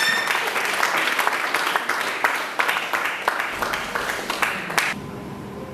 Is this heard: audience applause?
yes